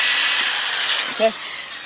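A power drill sands a car headlight lens with a steady, fairly loud whine whose pitch slides slowly downward as the speed drops, and a brief low bump near the end.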